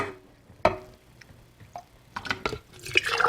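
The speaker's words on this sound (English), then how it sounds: "I'm going to ladle my yogurt into the mason jars" Soft wet clinks and drips as a ladle scoops and pours thick homemade yogurt into glass mason jars, scattered, close and quiet.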